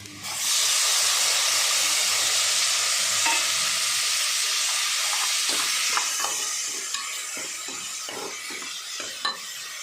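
Tomatoes and onions fry in hot oil for Kashmiri-style mutton rogan josh, with a loud, steady sizzle and hiss that later grows lighter as utensil scrapes and taps stir the pan.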